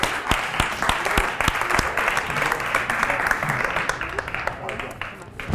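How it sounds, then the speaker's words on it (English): Audience applause fills the room with dense, steady clapping and a few sharper individual claps near the start, fading slightly toward the end at a live stage event. "Let's give her a round of applause."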